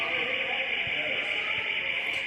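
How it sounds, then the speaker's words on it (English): A fire alarm rings inside a high school gym during a volleyball match after its cover is knocked off, a steady eerie tone sounding continuously throughout over crowd noise and commentary. "They knocked out the fire alarm, the cover for the fire alarm, which gives a nice little eerie ring, right?"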